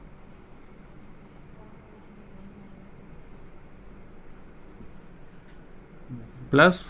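A chemistry equation is written on a board with soft, scratchy strokes under a voice explaining, ending in a brief, louder stroke.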